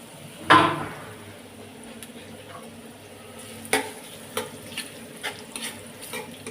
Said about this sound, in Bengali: তেলগুলো গরম হয়ে গেছে, আমি পেঁয়াজগুলো দিয়ে দিলাম।